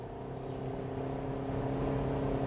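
A Toyota C-HR cruises on an 80 km/h road, heard from inside the cabin as a steady low engine drone and road hum, constant and unbroken with no talk.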